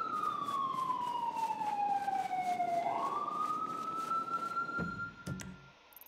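An emergency vehicle siren in the video game GTA 5 wails in long, slow sweeps falling and rising in pitch, loud over engine rumble, then cuts off.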